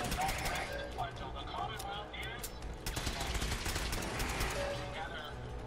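Gunfire in the video game Fallout 4: repeated sharp shots and rapid bursts crack throughout at moderate volume, with a person talking faintly underneath.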